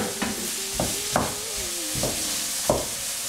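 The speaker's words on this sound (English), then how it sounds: "I'm gonna add my onions. With the ginger, stir it around nice," Onions and ginger sizzle in hot oil as they are stirred, a steady frying hiss broken by several sharp scraping stir strokes, close and moderately loud, with a faint tonal hum running underneath.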